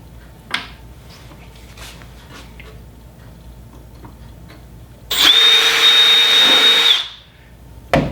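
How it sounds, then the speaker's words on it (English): A power drill whines steadily for about two seconds, boring a pilot hole into a wooden shop desk to mount a drawer front, loud and close, after a stretch of quiet with a few small taps and clicks. "Drill pilot hole"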